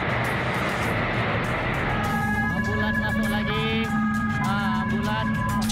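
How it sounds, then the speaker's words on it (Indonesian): A wailing ambulance siren rises and falls over a loud, steady roar at a refinery fire scene, sounding from moderately close amid heavy background rumble. "Sejumlah ambulans tampak masuk menuju ke lokasi kebakaran."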